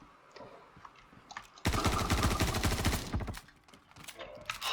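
Rapid automatic gunfire in the video game Star Citizen bursts in loud and close for about a second and a half, dense repeated shots that then trail off into quieter background game noise.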